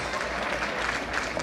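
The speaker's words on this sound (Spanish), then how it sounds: "Fuerte el aplauso una vez más." Guests at a quinceañera celebration give a brief burst of sustained applause, dense and even clapping from a crowd heard close and steady throughout.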